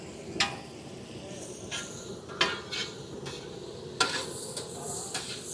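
Dessert tray ingredients are stirred together in a pan, with a spoon scraping and knocking sharply against the metal at irregular intervals over a faint sizzle, and a voice speaking at times.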